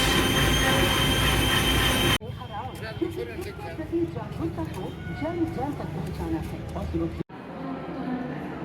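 Trains pass at a railway station platform in Panipat, loud rumbling with screeching, squealing wheels, then a busier stretch of rolling wagons and clatter, with people talking nearby.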